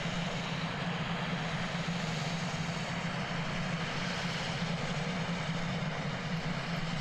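A Pilatus PC-12 turboprop at Christchurch Airport gives a steady, continuous engine drone with a low hum and broad hiss, moderately loud and unchanging throughout, with no voices.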